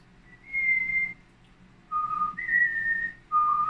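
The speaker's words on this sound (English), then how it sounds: "he was whistling a happy tune" A person whistles a happy tune as a few clear, sustained notes in short phrases with pauses between them, close and alone.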